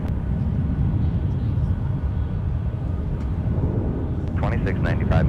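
An airplane takes off at Minneapolis–Saint Paul airport, a steady broad roar of jet engines at middle distance that holds throughout, with a brief burst of radio voice near the end.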